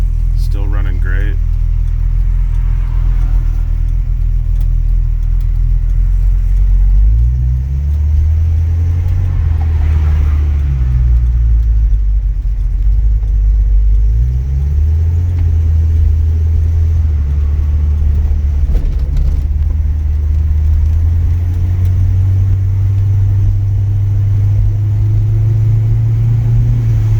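A 1955 Chevy hardtop fitted with Holley EFI pulls away on the road, its engine a steady low rumble that swells as it accelerates, with brief shifts in pitch and a faint voice underneath.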